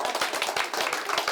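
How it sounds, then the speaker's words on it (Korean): An audience at a Won Buddhist site visit in Seoul claps together in a quick, fairly regular burst of overlapping hand claps, close and moderately loud, with no one speaking. "박수가 필요합니다."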